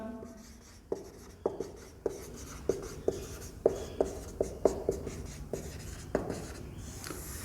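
A pen writes notes by hand on paper in a quiet room, giving a steady run of small, close scratching strokes with soft taps at regular intervals and no talking.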